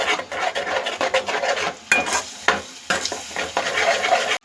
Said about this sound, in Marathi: आता हे मसाले पूर्ण व्यवस्थित तेलामध्ये परतून घेऊया।